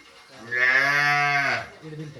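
A young calf gives one loud, drawn-out moo close by, lasting over a second, with quiet surroundings before and after.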